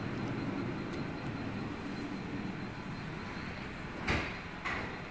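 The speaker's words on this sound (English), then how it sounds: "So driver side rear door automatic opening and closing from this door." A Nissan Elgrand 3500cc's automatic sliding rear door on the driver side runs with a steady low mechanical whir, ending in a couple of sharp thuds as it latches, fairly quiet and with no talk.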